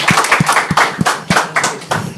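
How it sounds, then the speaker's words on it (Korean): An audience at a labor-respect talk and concert claps to welcome the talk show hosts, a close, fairly loud run of clapping with heavy, evenly spaced hits standing out above the general patter. "최일구 아나운서님과 구건서 노무사님을 향해서 힘찬 박수로 맞아주시기 바랍니다."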